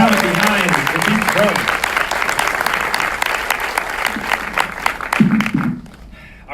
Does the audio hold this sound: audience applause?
yes